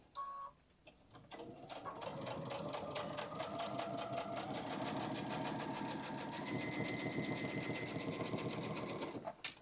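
Close-up whir of a sewing machine stitching across the seams of a fabric bag, starting after a brief pause and then running steadily at a constant speed until it stops near the end.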